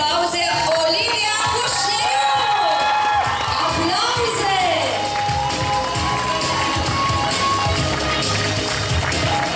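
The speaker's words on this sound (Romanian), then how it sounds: "aplauze, aplauze, Olivia" An audience at a children's song contest in Bălți cheers and claps loudly and continuously, with whoops and children's shouts rising over the applause.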